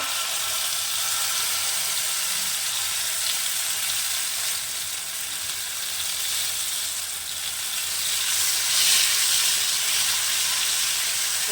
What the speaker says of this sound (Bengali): এবার তেলের ভিতরে সেই পেস্টটা দিয়ে দিচ্ছি একটু নেড়ে নেবো